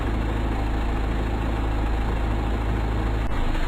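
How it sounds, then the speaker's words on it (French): Turbocharged diesel engine idling steadily at close range with a low, constant rumble, ending just before shutdown; no talk. "Cliquez sur le contacteur de démarrage pour arrêter le moteur."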